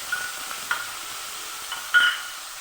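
Onion paste and slit green chillies frying in a pan for a Bengali spine gourd, egg and potato curry, a low steady sizzle broken by a few soft spoon scrapes and one louder stir near the end.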